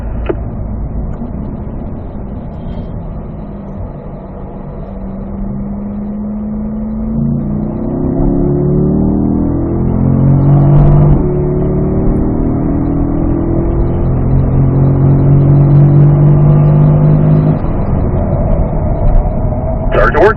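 A car accelerates on the Spring Mountain North Course race track, its engine note rising through the gears with steady, loud harmonics while an instructor's voice coaches over the engine throughout.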